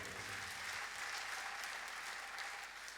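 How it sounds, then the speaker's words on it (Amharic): A church congregation claps together in a sustained, even burst of applause, dense and steady throughout, with a faint low instrumental tone under the start. "እስቲ አጨብጭቡላቸው።"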